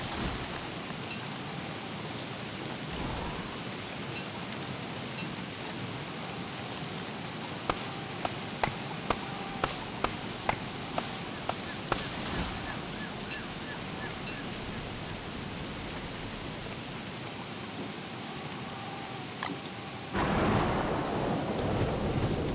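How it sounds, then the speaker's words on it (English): Steady rain hiss from a thunderstorm in the Don't Starve video game, broad and continuous, with a few sharp clicks midway and a louder burst of downpour near the end. "I always like thunderstorms"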